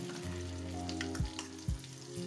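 Onion paste sizzling as it hits melted butter in a pan for malai paneer, a close, steady frying hiss with a couple of soft thuds from the spoon.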